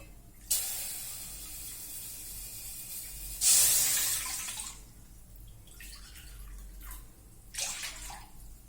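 Water poured from a cup into a bowl holding sugar for syrup, in a home kitchen: several splashing, hissing pours, with a long one near the start, a stronger burst midway and two shorter ones later, close and fairly loud.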